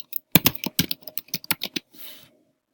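Quick typing on a computer keyboard while signing into an account: a burst of a dozen or so close clicky keystrokes in an uneven rhythm, ending with a short soft rustle.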